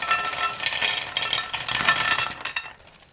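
Hard frozen cherry tomatoes clatter and rattle into a metal cocotte, a loud continuous jumble of clinking over about three seconds.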